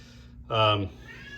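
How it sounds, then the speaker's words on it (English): A single drawn-out house cat meow sounds close and loud for under half a second, rising out of a quiet indoor room tone. "There's a cat in the background."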